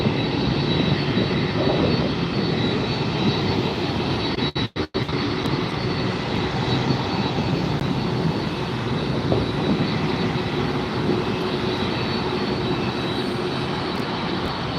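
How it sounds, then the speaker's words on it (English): A Delta Boeing 767-400ER jet, flight 446 to Atlanta, roars loudly and steadily at LAX, with a heavy broadband engine rush that fills the whole stretch and dips only briefly once. "Delta is a Boeing 767-400 series ER."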